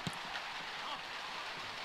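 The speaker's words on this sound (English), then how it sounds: "the rain gets heavier and heavier at the Den" Rain pours steadily on an outdoor football ground, the Den, during an NPL Tasmania match between Kingborough and South Hobart, a constant broad hiss with faint voices in the background.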